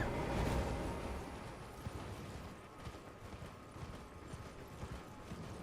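Horse hooves gallop in the video game Elden Ring, a steady muffled drumming of footfalls at moderate volume that continues throughout with no talking.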